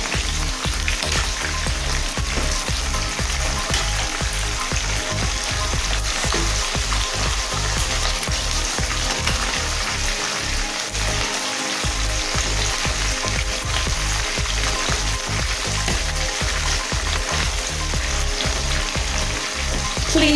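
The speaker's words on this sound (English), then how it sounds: "The chicken is frying so nicely." Chicken frying in a pan for Ghanaian jollof rice, with a steady loud sizzle and crackle throughout, broken by frequent sharp spits and pops, close up and with no talking.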